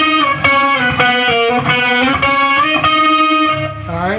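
Distorted electric guitar plays a lead in octaves, bright, rhythmic picked notes ringing steadily and closely, ending on a bending slide, with no talk.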